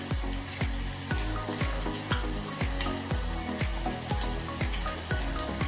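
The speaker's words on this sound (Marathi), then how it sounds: "आता लसूण तांबूस व्हायला आलेला आहे, एकदम झालेला आहे." Garlic sizzling in hot oil for a lemon curry (kadhi), a steady crackling fry with regular stirring knocks throughout, loud and close with no talking.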